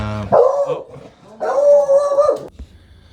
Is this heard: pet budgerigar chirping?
no